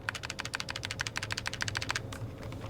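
Rapid clicking of a Logitech G915 TKL mechanical keyboard with tactile switches, a steady run of sharp keystrokes that stops abruptly, leaving a quiet hum.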